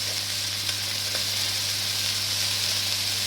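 Garlic frying in a hot pan alongside pineapple chicken, a steady close sizzle with a faint stir or two and no talk.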